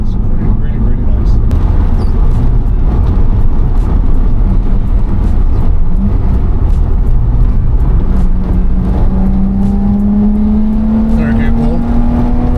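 BMW E30 325i Sport driving on the road, a continuous low engine and road rumble from inside the car, rising in pitch as it accelerates, under ongoing speech.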